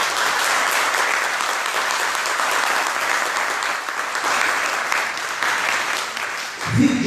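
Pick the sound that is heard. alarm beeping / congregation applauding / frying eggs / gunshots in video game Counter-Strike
congregation applauding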